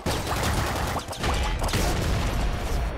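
Bouncer shotgun firing in the top-down shooter Nuclear Throne, a rapid burst of loud overlapping blasts followed by a second volley, dense and continuous with no talking.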